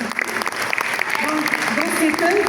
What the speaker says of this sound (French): on les applaudisse directement aujourd'hui